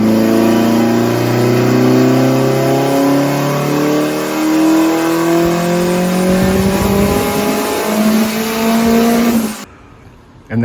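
A Nissan Juke engine with 10 PSI wastegate spring pressure revs hard toward 7,000 RPM during a tuning pull. Its loud, close engine note climbs steadily in pitch, then cuts off abruptly near the end.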